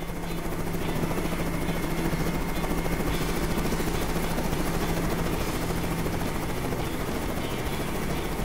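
A helicopter coming down to land on a cricket field, its rotor throbbing loud and steady throughout with a continuous engine roar and no pauses.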